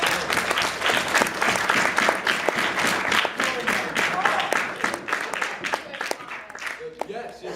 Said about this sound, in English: Everyone, please applaud for Will